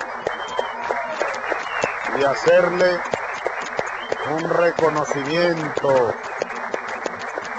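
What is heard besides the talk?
audience applause for the Venezuelan team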